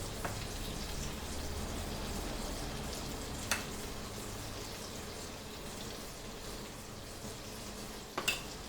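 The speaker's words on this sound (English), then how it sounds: "Fry this both the sides nicely, and your brinjal burger is also ready to serve." Brinjal burger patties fry in a pan with a steady, soft sizzle and crackle that runs throughout, punctuated by a few brief sharper pops near the start, middle and end; no voices.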